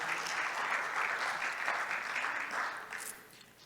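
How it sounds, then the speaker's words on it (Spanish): Congregation clapping together in a church service, a dense, steady wash of many hands that stays loud and even for several seconds before easing off slightly at the end, with no one talking over it. "dándole palmas"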